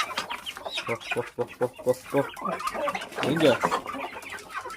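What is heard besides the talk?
chickens clucking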